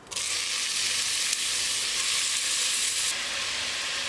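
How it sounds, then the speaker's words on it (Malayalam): Chopped onions sizzle steadily in coconut oil inside a pressure cooker for a chicken curry, a loud, even frying hiss that runs the whole time without any talking. "ഇതിലേക്ക് നമ്മൾ അരിഞ്ഞ് വെച്ചിരിക്കുന്ന സവാള ചേർത്ത് കൊടുക്കാം."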